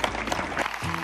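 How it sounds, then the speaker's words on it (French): Brief burst of audience applause at an anniversary ceremony, dense clapping that fades into a low tone near the end. "Des applaudissements et même un peu plus fort."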